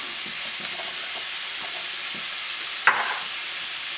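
Shallots and garlic sizzle in melted butter in a pan, a steady bright hiss with faint stirring clicks and one sharp scrape near the end.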